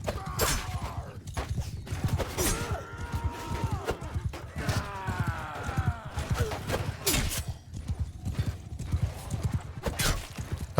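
Horse hooves clip-clop steadily in Mount & Blade II: Bannerlord amid cavalry combat, with creaking gear, whinnies and metallic clatter layered over the constant galloping rhythm.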